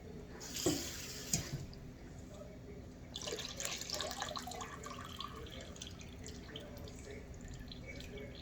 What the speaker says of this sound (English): My mama used to tell me not to rinse okra, but I'm gonna rinse it.